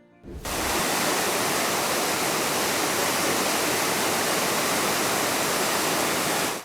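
Waterfall with a small natural gas flame burning in a grotto at its base, gas seeping from cracks in shale rock; steady, loud broadband rush of falling water continues unbroken throughout.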